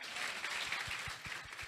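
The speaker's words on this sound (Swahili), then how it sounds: "Pigia yeye makofi." A crowd at a Kenyan political gathering gives a short burst of applause, faint and somewhat distant, with scattered claps and soft thuds.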